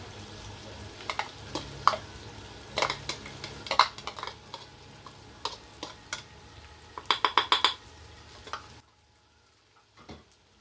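Chopped onion, garlic and pili nuts are stirred in a pan with tofu, producing repeated close clinks and scrapes of a utensil against metal over a soft sizzle, then falling quiet near the end.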